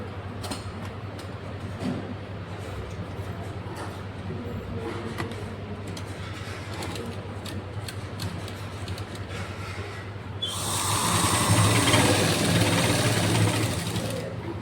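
A sewing machine stitches a shirt collar with a steady, close, rattling mechanical run that swells into a louder, faster burst of stitching near the end.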